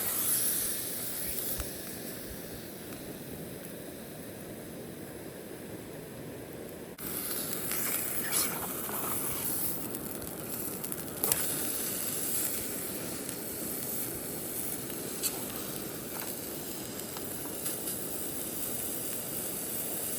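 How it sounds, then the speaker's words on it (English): Steak and onions sizzle in a small pan on an ultralight camping stove outdoors by a river, a steady close hiss with a louder surge partway through as the meat goes in. "Then we'll throw the steak in there."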